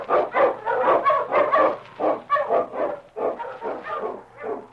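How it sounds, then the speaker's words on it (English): King, an Eskimo lead dog, barks in a rapid, steady run of loud, close yaps and bow-wows that carries on without pause, alone with no voices. "The Wonder Dog King, swiftest and strongest of Eskimo lead dogs"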